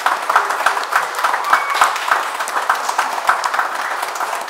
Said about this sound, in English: We want to just give you a round of applause.